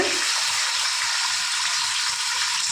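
Thinly sliced beans and carrot frying in oil, a steady close hiss and crackle of sizzling with faint soft stirring knocks underneath.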